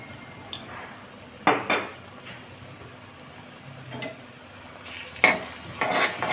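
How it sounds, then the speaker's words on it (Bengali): A spoon stirs ground spice paste with salt and turmeric in a frying pan for a Bengali Jamai Sasthi dish, giving intermittent scraping clanks against the metal over a soft, steady sizzle, close up with no voices. "এখন ভালোভাবে নাড়াচাড়া করে নিব"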